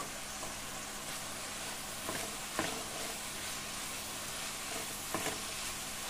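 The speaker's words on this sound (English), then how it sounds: "I'm going to let this fry" Fenugreek (methi) leaves and spring onions sizzle steadily in a pan, a continuous close frying hiss with a few soft stirring scrapes and no talking.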